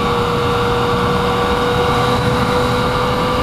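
A 2015 Yamaha FZ09 motorcycle engine rumbles steadily and loudly up close, an even, continuous drone with a constant tonal hum and no breaks or talking.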